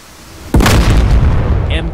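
A missile explodes and destroys a main battle tank in DCS World, struck by a guided weapon dropped from an AV-8B Harrier. It lands as a sudden loud boom, and a heavy rumble trails off behind it.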